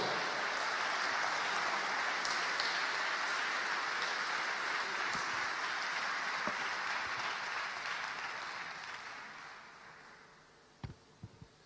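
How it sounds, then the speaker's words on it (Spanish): A church congregation applauds during a sermon, a broad sustained roar of clapping that holds steady, then thins and fades toward the end, leaving a few scattered last claps. "Dale un gran aplauso."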